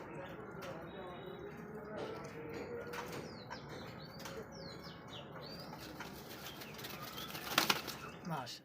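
Pigeons at a pigeon farm, soft cooing and faint chirps with a burst of wing flapping near the end, heard at moderate distance under a steady background murmur.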